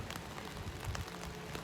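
Steady rain falls on outdoor surfaces in a continuous, even hiss of dense small patters, with no voices over it.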